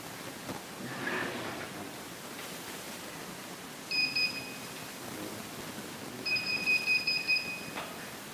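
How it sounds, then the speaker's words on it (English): An Arduino object sensor mounted on a cane emits two bursts of steady high electronic beeping, the second longer, over a background of room hiss and faint handling noise. "you can hear the sensor beeping itself"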